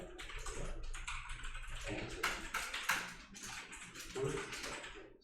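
Computer keyboard keys pressed while drawing a custom board outline in PCB design software, a dense run of quick clicky taps close to the microphone with a steady low hum underneath.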